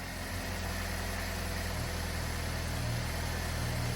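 A freshly installed engine in a teenager's new car idles steadily after first start, a continuous low rumble with a slight rise in pitch partway through, no voices.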